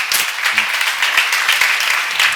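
A church congregation applauds during a seminar, bright fast clapping from a crowd close by, loud and continuous, with a short spoken murmur near the start.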